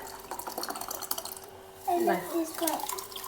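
Water is poured into old cooked rice in a home kitchen, a close splashing, gurgling trickle that follows quieter handling sounds, with someone talking over it.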